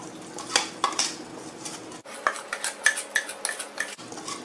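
A utensil stirs chicken masala and rice in a pot over low heat, making repeated close scraping and clinking strokes in an uneven rhythm, with a brief pause midway. No one speaks.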